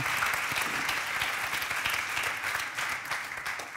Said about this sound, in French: j'aimerais bien que vous les applaudissiez pour les remercier.